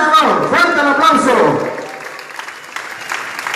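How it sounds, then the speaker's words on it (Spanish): Applause from an audience at a campaign closing rally, a dense burst of clapping and voices that starts loud and then thins toward a scattered, quieter patter. "¡Fuerte el aplauso!"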